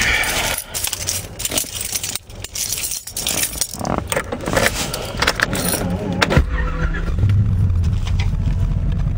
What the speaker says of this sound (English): that's how it starts up on idle.